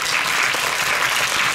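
An audience claps at a premiere event for a Thai series episode, a steady, even wash of many hands applauding with no voices standing out.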